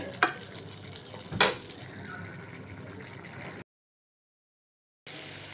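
Chickpeas and potato frying in a pan while being stirred make a busy sizzle with two sharp scraping clatters early on, then a short break of silence before the frying hiss returns.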